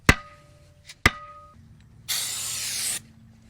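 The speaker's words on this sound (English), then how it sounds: "I just sprayed some brake cleaner in there" A can of brake cleaner sprays for about a second into RV wheel-bearing parts, a loud close hiss that follows two sharp metallic clinks of tools and parts being handled, with no talk.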